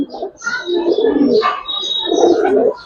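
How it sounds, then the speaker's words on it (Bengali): A Giribaz high-flyer pigeon coos up close in two rounded, throaty phrases, loud and clear with little else around. "এরকম একটা কবুতর ছাইরে পারলেই মজা। কি সুন্দর ডাকে মাশাআল্লাহ।"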